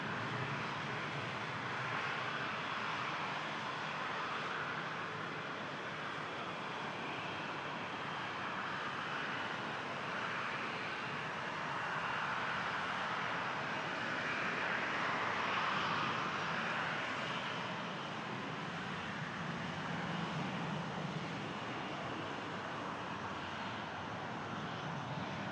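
Aircraft engines roar at Toronto Pearson airport, a sustained broadband rumble that swells gently and fades over about twenty-five seconds, heard from a distance with no voices.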